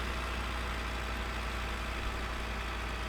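Tractor engine in Farming Simulator 15 hauling a load, a constant dense drone with broadband noise and a steady low throb, unchanging throughout and without any talk.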